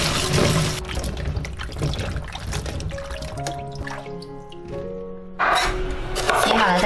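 Kumquats rinsed in clean water, with steady trickling and splashing of running water and handled fruit, alongside tonal background music.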